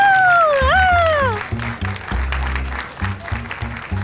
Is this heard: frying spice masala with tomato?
no